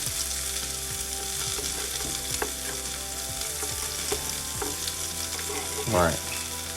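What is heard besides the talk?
onion frying in oil in a skillet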